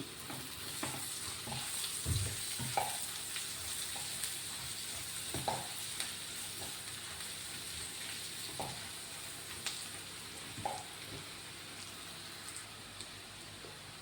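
Mushrooms and curry leaves fry in a pan for a mushroom roast, a soft continuous sizzle broken by occasional stirring scrapes and light clinks, close and alone without speech.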